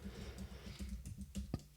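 Quiet typing on a computer keyboard while searching for a data bucket in software, with a steady run of light key clicks and a couple of sharper taps near the end, close and without talk.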